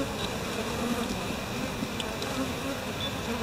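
Dense buzzing of a honeybee colony mobbing a hornet, a steady close insect drone with no pauses and a faint voice underneath.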